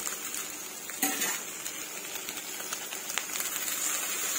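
Grated coconut heated in a pan for chutney makes a soft, steady sizzle under clinks and scrapes of a spoon, with a sharper knock of utensil on pan near the start and no talking.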